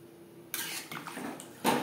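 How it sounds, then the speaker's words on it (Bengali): After a half-second lull, water gushes and splashes into a pot of hilsa fish and potato curry, with a second, stronger pouring burst near the end. "গ্যাসের ফ্লেমটাকে হাইতে করে দেব আর দিয়ে দেব জল।"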